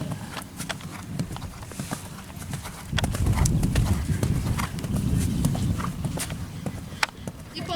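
A young horse canters to the left during jumping training, hoofbeats drumming in a quick rolling rhythm that grows louder and closer midway, with occasional thuds and no clear talk.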